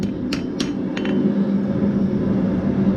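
Several sharp metallic hammer strikes ring out, two close together and then a pair more, as a blacksmith wraps a steel bottle opener around itself, over a steady roar of forge blower or background noise.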